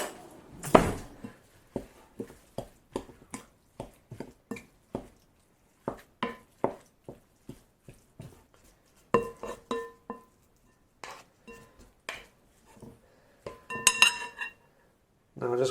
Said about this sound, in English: then give that a good mix up.